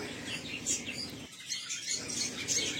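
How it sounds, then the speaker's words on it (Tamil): Caged lovebirds with chicks, bred in a home aviary, give busy, overlapping high chirps and tweets at close range, with a brief lull midway before the chatter resumes. "இந்த லவ் பேர்ட்ஸ் பாருங்க, உள்ள குட்டி இருக்குது."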